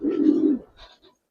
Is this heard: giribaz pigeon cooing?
yes